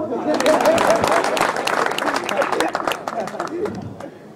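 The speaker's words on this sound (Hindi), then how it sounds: "उनके लिए ताली ठोक दो" An audience at a Hindi kavi sammelan poetry gathering in Pichhor, Jhansi claps for an aunt seated among them, brisk crowd clapping mixed with a murmur of voices that fades slightly toward the end.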